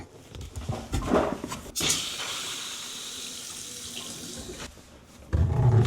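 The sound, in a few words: water running from bathroom faucet after turning valve on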